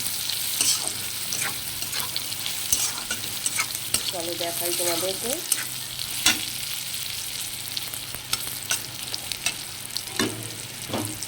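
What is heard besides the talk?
frying in a pan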